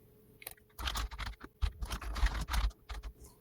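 Java code is typed on a computer keyboard, a rapid, uneven run of close keystrokes with short pauses between bursts and no talk over it.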